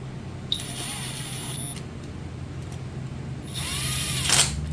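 A power tool snugs bolts on a 4L60E transmission valve body during a shift kit install. It gives two short, high whirring bursts with a brief pause between them, close by over faint background noise.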